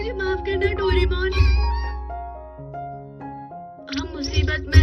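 A cartoon cat in a Hindi-dubbed Doraemon episode meows several times, close and fairly loud, over a tonal musical backing and with speaking voices.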